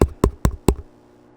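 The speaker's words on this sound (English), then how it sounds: "Banging on the doors for ages." Four sharp knocks on a wooden door in Farming Simulator 22, loud and close, evenly spaced over about a second and then silence.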